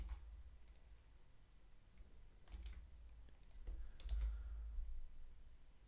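Keys tapped on a computer keyboard while entering Android code, a few soft scattered clicks and short bursts at close range over a low steady room hum, no talking.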